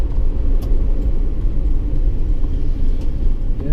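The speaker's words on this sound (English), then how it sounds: "It's powered by a 3-cylinder, 2-stroke engine, 896 cubic centimeters." A 1958 DKW F93 with a 896 cc three-cylinder two-stroke engine drives along, heard from inside as a loud, steady low rumble with a buzzing engine note and no talking.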